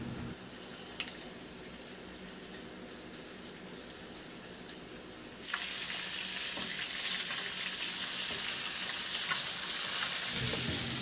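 A butterflied whole chicken fries in a pan with a steady, close sizzle that jumps suddenly louder and brighter about halfway through and stays loud.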